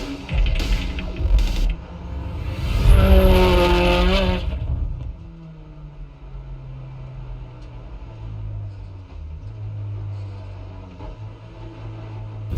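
A Pleasure Evo car is driven hard through a cow pasture, its engine revving loudly for the first few seconds before a low drone and distant rumble take over, with no talk.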